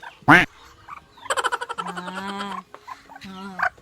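Several ducks quack nearby in short bursts, some harsh and nasal, others more drawn out, with brief pauses between calls.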